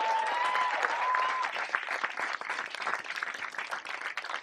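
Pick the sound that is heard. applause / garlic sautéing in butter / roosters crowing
applause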